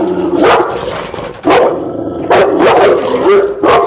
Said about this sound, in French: Il va aboyer sur moi, je vais me mettre en face.